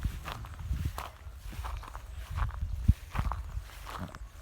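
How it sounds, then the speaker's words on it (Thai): Footsteps crunch through dry Pangola grass parched after two rainless weeks, at an even walking pace, close by, each step a soft crackling rustle over low background noise. "ที่เดินอยู่ตอนนี้ก็ ดังก๊อบแก๊บก๊อบแก๊บนะครับ เพราะว่า ฝนทิ้งไป ประมาณสองอาทิตย์"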